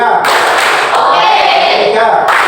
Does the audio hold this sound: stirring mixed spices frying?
no